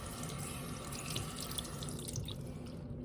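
Body lotion being rinsed off skin under a running sink tap, a steady close splashing rush of water throughout with no talking.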